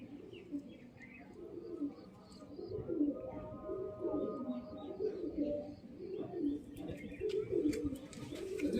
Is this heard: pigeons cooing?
yes